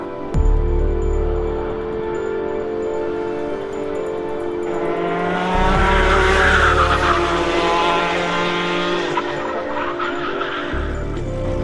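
A racing kart engine runs hard on the Daytona test track, loud and close, its buzzing note climbing and falling through the revs in steady pulls with no break.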